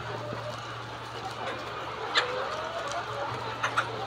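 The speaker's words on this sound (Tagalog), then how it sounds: "Malalaki yung mga manok mga bay." Brown Dekalb chickens cluck and cackle in short bursts amid a busy cage-free barn ambience with a constant low mechanical hum.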